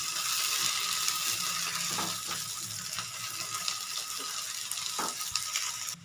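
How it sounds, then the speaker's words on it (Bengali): Garlic and ginger paste fries in hot oil, a steady close hiss with light scraping and a few stirring knocks, and no talking. "এটা এখন রসুন আর আদাটা ভালো করে কষিয়ে নেব, যাতে কাঁচা গন্ধটা না থাকে"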